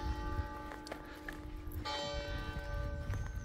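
Church bells ring in Gignod, a village at 997 metres in the Aosta Valley, ringing out with sustained, overlapping tones and fresh strikes, moderately near over a low outdoor rumble.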